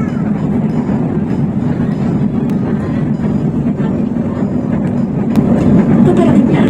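An LRT light rail train rumbles steadily from inside the car for several seconds, a continuous mid-low drone with faint clicks and a slight swell toward the end.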